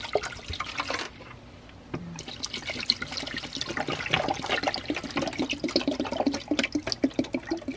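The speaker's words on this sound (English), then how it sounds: "Oh, it is bubbling like crazy." Hydrogen peroxide fizzing and bubbling steadily at close range as it cleans parts of a 1952 Zeiss Ikon Ikoflex IIa camera, with crackling pops and wet trickling throughout and no talking.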